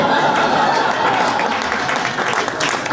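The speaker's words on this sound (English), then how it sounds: "The happy laughter and applause of assholes having a moment" An audience at a stand-up comedy show claps in brisk, crowded applause mixed with some laughter, rising and fading over a few seconds.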